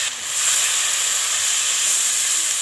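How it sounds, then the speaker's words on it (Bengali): Hot pan hisses and sizzles steadily as potatoes and eggplant go in after frying fish, a dense close crackle with no voices. "এবার আলু আর সবজিটাকে দিয়ে দিতে হবে"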